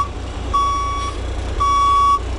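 A truck backs up during a Class B CDL skills test, sounding two clear, evenly spaced reverse beeps over a low engine rumble, with no talking.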